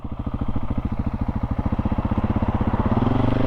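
A KTM 690 SMC R 2024 motorcycle engine thumps in a fast, steady rhythm under load, its pulses quickening as it revs through a gear change; close and loud.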